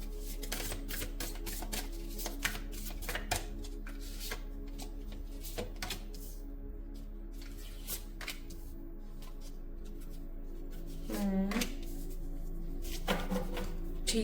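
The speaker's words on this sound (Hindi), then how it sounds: "जस्ट अ मिनट में थोड़ा से शफल कर लूँ कार्ड्स।" Tarot cards are shuffled by hand in quick bursts of crisp riffling and tapping, sitting close and moderately loud over a steady soft musical background throughout.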